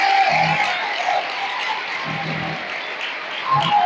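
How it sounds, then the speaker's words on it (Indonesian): An audience of Islamic boarding school students claps at a motivational event, a steady wash of applause mixed with crowd noise and a few low voice bursts. "Hari ini tepuk tangan untuk ibu hari ini."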